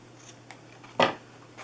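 Scissors cut ribbon ends with one crisp, close snip, preceded by a couple of faint handling ticks and followed by a soft rustle.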